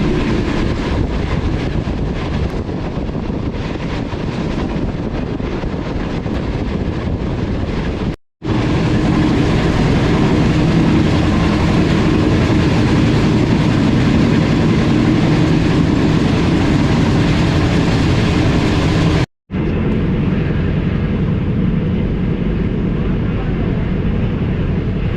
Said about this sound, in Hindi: हमारी ट्रेन वो अप्रोच कर रही है खानपुर जंक्शन रेलवे स्टेशन पर